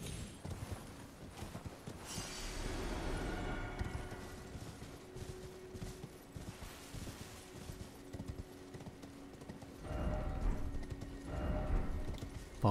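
Horse hooves clip-clopping in the video game Elden Ring, a steady run of rhythmic hoofbeats that swell in a few louder passages, with faint mechanical game sounds and occasional background noise.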